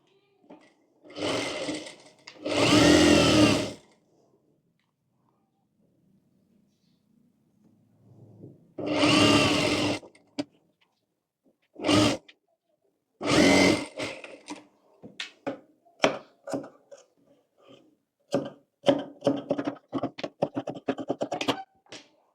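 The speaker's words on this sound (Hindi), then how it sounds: "यहाँ पर धार सिलाई कर लेंगे" A sewing machine runs in short bursts of seam stitching while a blouse is sewn. The bursts are loud and close, with pauses between them, then a rapid series of brief stops and starts near the end.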